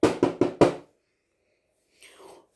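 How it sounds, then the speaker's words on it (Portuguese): Someone knocks on a door in a children's story about a wolf: four sharp, evenly spaced raps sound close and loud. After a pause comes a faint, breathy vocal murmur. "Aí o lobo chegou e bateu na porta."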